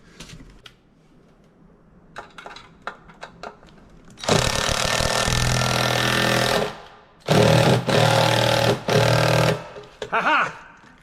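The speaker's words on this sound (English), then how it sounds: "You can't use an impact gun on stainless steel." Loud, rattling bursts of an impact gun driving stainless steel bolts on a boat's shore power adaptor, several long hammering runs with short pauses, preceded by small clicks and a speaking voice.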